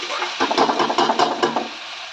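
Vegetables sizzling and being stirred in a pan on a home stove, a steady close fry with repeated scraping stir strokes over about two seconds, no talk.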